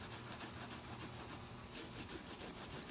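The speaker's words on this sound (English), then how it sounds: "So I'm going to just start rubbing this." A metal tag is rubbed by hand with Nevr Dull polish wadding, giving a quiet, rhythmic back-and-forth scrubbing with regular strokes, close up and alone.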